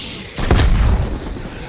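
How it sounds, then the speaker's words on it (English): A grenade goes off in the zombies mode of Call of Duty Black Ops Cold War, a single loud, low boom that rolls on for about a second before fading into a lingering rumble. "I love how the grenade took forever to go off"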